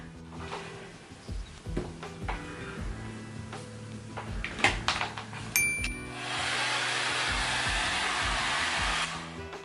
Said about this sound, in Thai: ขั้นตอนต่อไปเดี๋ยวจะ เป่าผมให้แห้งก่อน